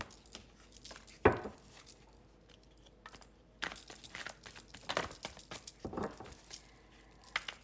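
Tarot cards shuffled by hand nearby, quiet papery riffles and slaps in irregular bursts with pauses between, no talking.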